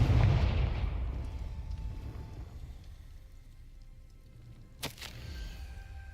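A Confringo fire spell from the Hogwarts Legacy video game bursts loudly at the start with a crackling, booming blast that fades over several seconds, followed by a sharp second crack near the end.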